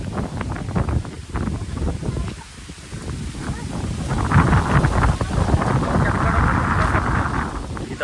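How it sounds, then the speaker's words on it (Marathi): Strong storm wind roars continuously through a village during a rainstorm with mango trees, a loud, gusty broadband rush that swells midway, with faint voices underneath. "वारा सुटलाय"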